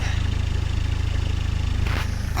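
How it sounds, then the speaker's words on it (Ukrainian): A 2000 Renault Kangoo 1.9 diesel engine idles steadily with a low, even rumble, close by, with a brief louder whoosh near the end. "Мотор гарно працює."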